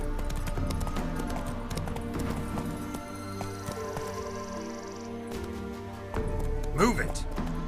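Roach the horse gallops in The Witcher 3, steady hoofbeat clip-clop running throughout at moderate loudness, with a brief whinny near the end and someone speaking over it.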